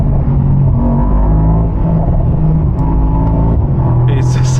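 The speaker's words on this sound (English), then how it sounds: "Nothing beats the torque of a proper V8." Mercedes-AMG SL with a turbocharged V8 revving loudly from inside the car, a deep steady rumble that rises and holds, with a brief sharper burst near the end.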